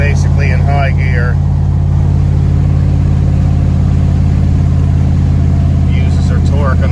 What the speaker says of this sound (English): even with this crazy exhaust leak, she still just runs along basically in high gear.